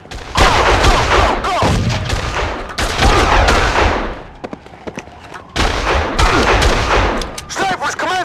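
Sniper gunfire in the Made Man video game, loud and dense bursts of shots crackling across the scene with brief lulls, a second heavy volley near the end.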